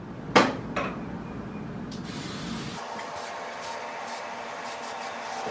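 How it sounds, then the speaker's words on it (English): A short burst of hairspray is sprayed onto hair near the microphone, preceded by a couple of sharp clicks and handling sounds, then a quiet room hum. "Now from this point, I'm gonna give it a little spray."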